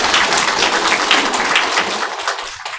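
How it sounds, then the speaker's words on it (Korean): Steady applause from a church congregation welcoming a young member home from military service, loud and dense throughout before trailing off at the very end. "한번 일어서 주시면 큰 박수로 환영하도록 하겠습니다"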